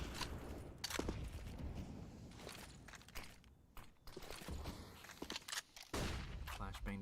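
Bursts of rapid MAC-10 submachine gun fire in the CS:GO video game, several short rattling volleys at close range mixed with footsteps, faint overall, under a commentator talking.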